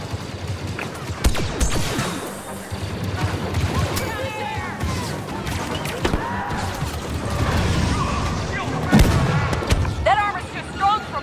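Blaster fire and explosions crackle during the Battle of Endor in the Star Wars Battlefront II video game, with scattered shots and booms under overlapping voices and battle noise.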